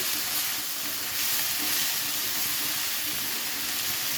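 Spices and coriander leaves sizzle steadily in hot oil for an egg coriander bhuna curry, a continuous close frying hiss with faint stirring, no voices.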